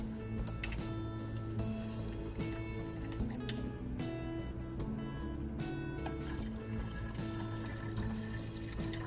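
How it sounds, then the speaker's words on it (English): Water added to a flask during a sodium hydroxide standardization, a continuous splashing pour with bubbly gurgles and small drips, steady and close for several seconds with no voices. "We can go ahead and add a little bit more water."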